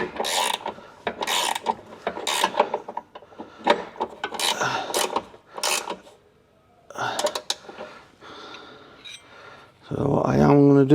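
Ratchet spanner tightening a suspension bolt on a Subaru rear end, a run of quick rasping clicks in short bursts that pause, then resume, with a voice joining at the end.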